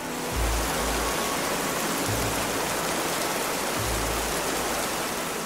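Heavy winter rain pouring down over flooded streets in Amman, Jordan, a steady dense hiss of water throughout with low rumbling swells underneath, loud and continuous with no voices.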